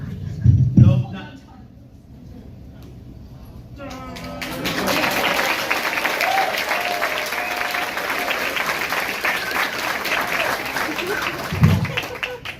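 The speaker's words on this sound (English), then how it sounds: "Round of applause for y'all." Comedy club audience breaking into applause at the end of a stand-up set: a brief murmur first, then sustained, steady clapping that swells and holds at moderate loudness, with a few voices mixed in.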